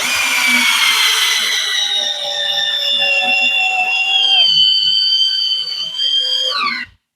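Bosch and Parkside cordless drill drivers driving a screw, a loud, close whining motor that holds steady, dips in pitch as the screw bites, then winds down abruptly.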